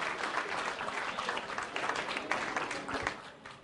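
Audience applauding at a memento presentation for Ms. Nilofer Saeed, a steady patter of many hands filling the room at moderate level and easing slightly toward the end.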